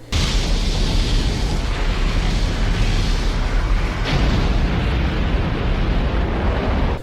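A large explosion from the video game Xenogears as the enemy Merkava is destroyed, a loud, dense rumbling blast that roars steadily for about seven seconds with a fresh surge midway.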